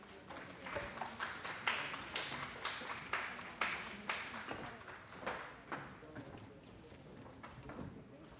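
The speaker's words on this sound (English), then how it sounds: "Please join me in welcoming them with a warm round of applause" An audience at a conference on affordable diabetes care technologies gives a sustained round of applause, a dense patter of many hands clapping that swells and then slowly tapers, heard from a moderate distance.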